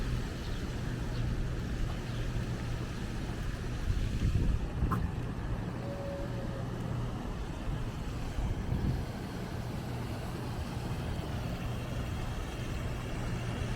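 Outdoor fountains in the College Park area splash in a continuous, even wash of water noise, with some wind rumble underneath.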